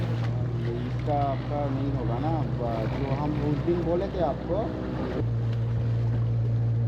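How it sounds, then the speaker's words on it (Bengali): A small boat pulls away from a dam jetty at Chandil Dam in Jharkhand, its steady engine hum running throughout beneath a voice speaking nearby, with the drone shifting slightly as the boat moves off. "এবারে বোট ভেসেল ঘাট থেকে ছেড়ে বেরিয়ে গেল"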